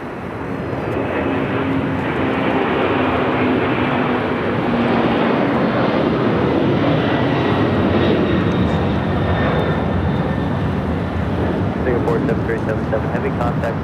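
Qatar Airways heavy jet on approach to land on runway 25 left at LAX, a loud, broad engine roar that swells and holds steady as it passes nearby, with a voice faintly audible underneath.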